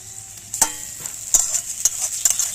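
A spoon scrapes and stirs garlic, ginger and cumin paste as it fries in a pan for an egg malai curry, with a few sharp scraping strokes over a soft, steady sizzle and no talking.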